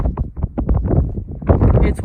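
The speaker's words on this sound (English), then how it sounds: "It's windy again." Strong gusts of wind buffet the microphone outdoors on a canyon trail along the Guadalupe Ridge Trail, a loud, irregular rumble that surges and drops, with no voices.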